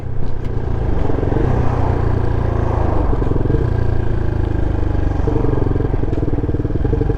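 Peugeot PM-01 125 motorcycle engine while riding on a bridge in town, a loud, close, steady single-cylinder drone with even, smooth throttle changes and rumbling low end, wind and road noise running throughout.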